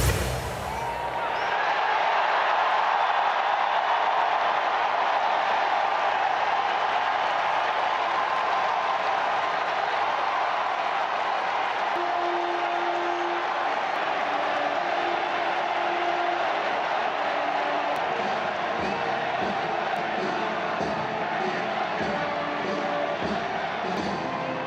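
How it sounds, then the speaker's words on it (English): A huge crowd at St. Peter's Basilica cheers as a new Pope is announced, a dense, sustained roar of voices and applause holding steady throughout with faint tones rising through it. "The crowd at St. Peter's Basilica erupted in cheers on Thursday as white smoke billowed from the chimney of the Sistine Chapel."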